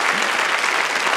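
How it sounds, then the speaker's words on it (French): A comedy show audience applauds steadily, a dense, even wash of clapping from many hands filling the room, loud and continuous with no talking over it. "Vous pouvez les applaudir"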